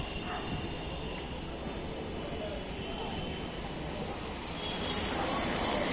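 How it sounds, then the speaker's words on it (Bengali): A metro rail train passes nearby on a street, giving a broad, steady rushing roar that holds close and loud throughout and builds slightly toward the end. "মেট্রো রেল এসছে কাছে"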